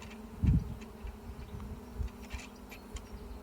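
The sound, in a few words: bees buzzing around a beekeeper at the hive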